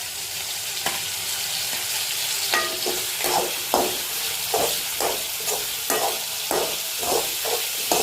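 Garlic and green chillies fry in a pan with a steady close sizzle, broken by repeated scraping stirs at an irregular rhythm, with no talk.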